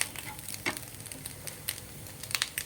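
Spices and chili powder being sautéed in a hot pan for a Malayalam pumpkin curry: a soft, steady sizzle broken by scattered sharp clicks and taps of stirring, close up, with no talking.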